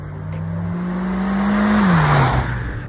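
A 2025 Haval Jolion Pro with a 1.5-litre turbo engine making 130 kW pulls away from a standstill, its engine note climbing steadily and loudly before easing as it shifts, with no talking.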